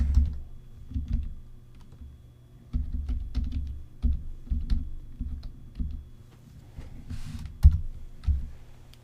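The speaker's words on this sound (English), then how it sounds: "So let's type out the product name." Keys clatter on a computer keyboard as a product name is typed, close and steady, with short bursts of rapid keystrokes separated by brief pauses.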